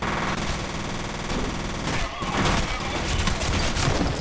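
Rapid automatic gunfire from the shooter video game F.E.A.R. rattles in dense, continuous bursts with a brief gap midway, loud and busy, with a voice speaking faintly underneath.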